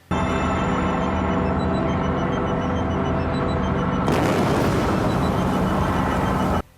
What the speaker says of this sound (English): After Gods try to kill the Doctor, he uses a medallion to deflect their weapons, which destroy the circus.